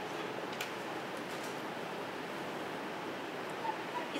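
Clay slip poured into a newspaper-lined mold makes a steady, soft, close wash of noise that stays even throughout, with a couple of faint small clicks near the end.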